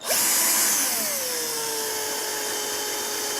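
A cordless screwdriver drill whirs up to speed and runs on steadily with a high motor whine that slowly settles in pitch, loud and close with no talk.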